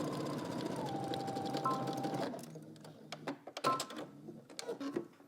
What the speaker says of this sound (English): just head over to your sewing machine. You're going to stitch this using 5/8 of an inch seam allowance